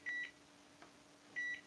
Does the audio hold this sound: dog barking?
no